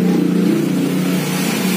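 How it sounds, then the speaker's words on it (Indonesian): A Yamaha Vixion motorcycle with a custom-made, unbranded exhaust, rebuilt as a KLX-style D-tracker, revs steadily and loudly with a low throbbing drone throughout. "untuk knalpot ini pakai knalpot custom, dibuatkan seperti ini"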